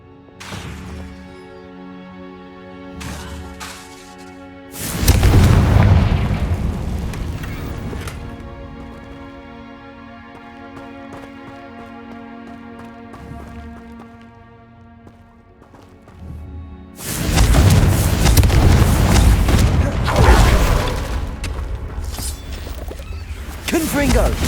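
Spell explosions from Bombarda and Confringo in the video game Hogwarts Legacy: two loud, sustained blasts of crashing noise over ongoing game music, with quieter action and a voice between them.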